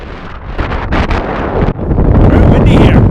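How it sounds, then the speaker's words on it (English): Strong wind roars at high altitude on Trail Ridge Road above the treeline in alpine tundra, buffeting the microphone loudly and continuously in gusting, rumbling blasts. "Very windy here."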